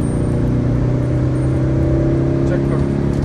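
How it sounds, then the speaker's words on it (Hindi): A Tata Nexon diesel in third gear accelerates under turbo boost, its engine giving a loud, steady whirring drone that climbs slightly in pitch toward the end, while a voice talks over it. "भाई बूस्ट देखो टर्बो का"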